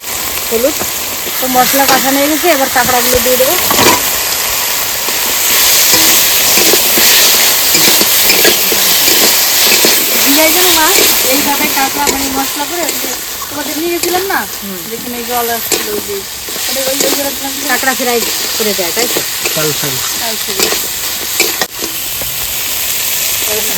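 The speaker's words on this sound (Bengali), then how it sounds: "ফোড়ন দিয়েছি তেজপাতা শুকনো লঙ্কা জিরে দিয়ে দেবো" Bay leaf, dried chili and cumin sizzle loudly in hot oil left from frying fish, a continuous close crackle and hiss with occasional stirring clinks, while a person speaks over it.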